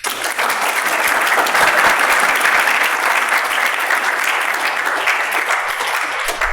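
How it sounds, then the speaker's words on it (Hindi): Sustained audience applause at a business marketing session, dense and steady clapping from a large crowd filling the whole stretch at even loudness. "तालियां होनी चाहिए यार।"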